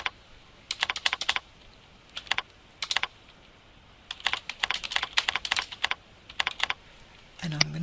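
Bursts of clicky keyboard typing on a computer while entering a comment in report software, in several quick runs with pauses between, close and fairly clear, with a short low tone at the end.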